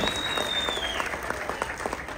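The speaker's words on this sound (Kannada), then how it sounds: "ಜೋರ್ ಚಪ್ಪಾಳೆ ಬರಬೇಕು ನಮ್ಮ ರಘುಗೋಸ್ಕರ" An audience applauds at a film teaser launch event, a dense continuous burst of many hands clapping that fills the room at steady volume throughout, with no speech over it.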